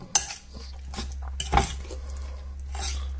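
Utensil clinking and scraping in a bowl while mixing omelette ingredients of cabbage, potato and sweet paprika, a few short close taps and stirs spread over a low steady hum.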